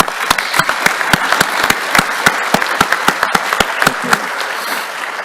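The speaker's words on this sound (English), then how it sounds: "let's get a round of applause for Katina Jackson" Sparse, distinct handclaps ring out one by one at a military relinquishment of responsibility ceremony for the Armor School, slightly irregular over a soft ambient bed.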